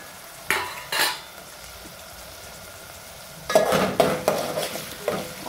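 Onions stirred in a pan as they cook down for a Telugu tomato and chana dal curry: a couple of scrapes, a quiet pause, then a busier burst of stirring and clinking with a soft sizzle, and no talk.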